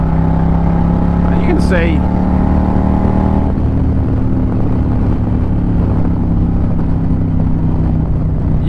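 An Indian Challenger motorcycle with performance cams accelerates in 5th gear, its engine drone loud and steady with a rising whine under someone talking throughout.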